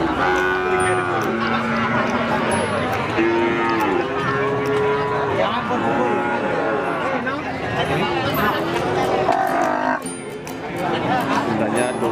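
Cattle at a cow market, including a mother cow that has calved once, moo loudly and repeatedly in long, drawn-out calls that overlap one another, with a faint murmur of crowd chatter underneath.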